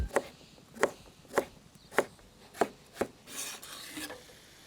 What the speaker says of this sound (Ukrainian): Розрізаю я її навпіл та нарізатиму півкільцями.